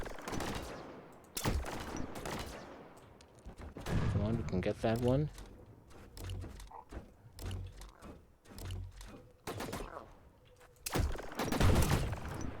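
Rapid gunfire in the video game The Signal From Tölva, with sharp bursts and a stuttering automatic volley amid loud game effects, while someone talks over the action.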